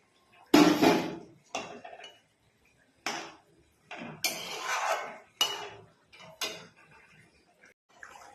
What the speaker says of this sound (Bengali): ঝোলটা ফুটে উঠেছে, এবার ভেজে রাখা মাছের মাথাটা দিচ্ছি।